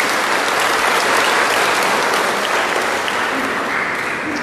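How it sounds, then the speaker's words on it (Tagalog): A church congregation at a dawn Simbang Gabi Mass gives loud, dense, sustained applause that stays steady from start to finish. "Palakpan po natin ang ating Panginoon."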